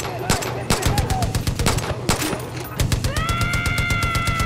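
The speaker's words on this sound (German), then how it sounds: "Jetzt musst du nur noch treffen, Kamina." Rapid bursts of Far Cry New Dawn gunfire crackle loudly in quick succession, with an electronic whine rising near the end.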